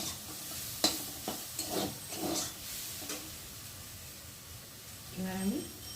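Soybean chunks fry lightly in hot oil with a steady hiss and sizzle, broken by several scraping stirs of a spatula against the pan, close and moderately loud.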